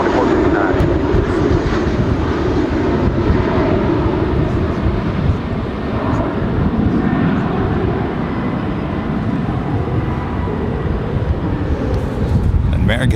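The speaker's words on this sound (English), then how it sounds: "American 737 taking off on 18 left." An American Airlines Boeing 737 takes off from runway 18 left at Dallas Fort Worth International Airport, a loud, steady jet roar mixed with wind buffeting on the microphone, holding strong for the whole stretch.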